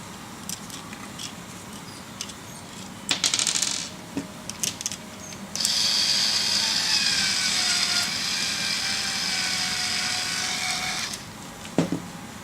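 Nuts are tightened while assembling a Formbytes One kit, with scattered small metallic clicks and taps, then a sustained scraping, whirring spin as a nut runs down its thread, ending in a final sharp click.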